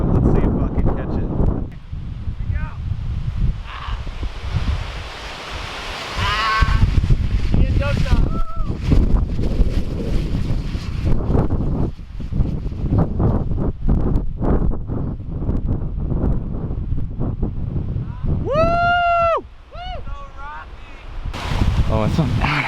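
Strong gusting wind at a sand dune lookout buffets the microphone with loud, uneven rumbling blasts throughout, while people talk and shout over it.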